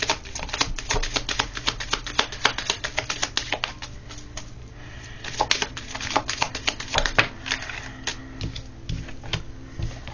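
Tarot cards handled and drawn from a deck, a dense run of quick dry snaps, flicks and shuffling clicks at close range with no one talking.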